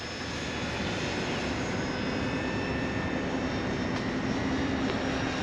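E-Flite Beechcraft D18 RC airplane flying on 4S power with retracts up, a steady loud electric motor whine and propeller drone held throughout at fairly close range, no talk.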